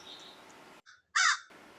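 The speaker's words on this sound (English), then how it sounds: "And here we are with the crows." Crows caw in the early morning near a glass bowl, a couple of short calls followed by a louder, harsher caw, fairly close against quiet outdoor background.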